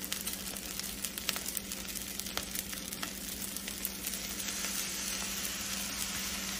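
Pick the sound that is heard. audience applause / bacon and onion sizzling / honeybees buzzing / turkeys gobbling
bacon and onion sizzling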